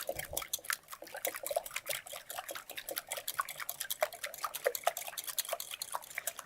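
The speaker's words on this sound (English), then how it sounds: "let's whisk our eggs" Eggs whisked in a bowl in a home kitchen cooking show, a quick run of light clinking, tapping strokes against the bowl with a wet, sloshing edge, steady and close for several seconds with no talking.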